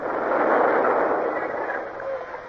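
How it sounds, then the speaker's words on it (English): A signal gun fired as a salute from the sailing ship Indefatigable, heard as a broad, dull, sustained boom that fades slowly, with no talk over it. "Signal gun from the Indefatigable, Tapling."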